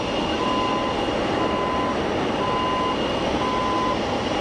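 Landing jet airliner at Geneva Airport with engines roaring in thrust reverse, a loud, steady broadband rush filling the whole stretch, close and continuous with no voices.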